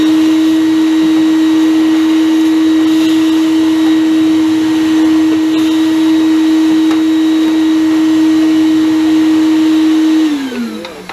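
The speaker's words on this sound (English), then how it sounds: "You got a little vacuum in here?" A small vacuum cleaner runs loud and close with a steady high whine for about ten seconds, then winds down as it is switched off.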